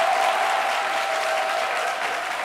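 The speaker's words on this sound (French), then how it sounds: "ovation encore, applaudissez très très fort" Studio audience at a television talk show applauding in a dense, steady burst of clapping, loud and sustained throughout, tapering only slightly toward the end.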